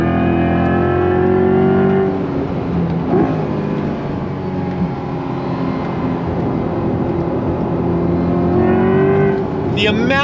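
A Chevrolet Corvette E-Ray, the all-wheel-drive C8, accelerates hard out of a corner, its loud engine note climbing in pitch and then revving up again near the end, with a voice breaking in briefly.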